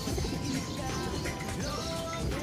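Soft cooing from several racing pigeons in a loft over a continuous hum, low murmuring calls repeating steadily without any talking.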